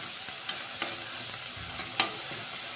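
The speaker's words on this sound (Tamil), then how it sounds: "உப்பு போட்டு வதக்குறோம்" Cauliflower and chilli sauté with salt in a pan under a steady close sizzle, while a spatula stirs and scrapes against the pan in three short clacks.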